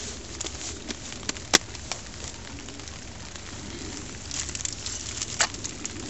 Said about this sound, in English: sit here by the warmth of the fire